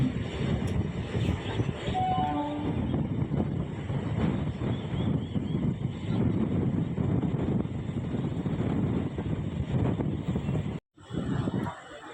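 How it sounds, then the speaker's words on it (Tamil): A train on the Coimbatore to Mettupalayam line, leaving Karamadai Junction, rumbles along continuously with rattling wheels and wind noise, loud and close throughout, with a brief dropout near the end. "இப்போ காரமடை ஜங்ஷன்லேருந்து ட்ரெயின் கிளம்பிடுச்சு."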